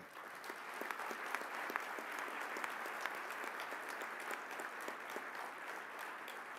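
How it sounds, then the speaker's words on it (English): Audience applause fills a dinner hall at the Black Engineer of the Year Stars and Stripes gathering, honoring senior leadership from the Defense Department and corporate America; steady, dense clapping from a large room, somewhat distant and even throughout. "let's applaud all of the senior leadership from DOD and corporate America and the Defense Department that are here in this room"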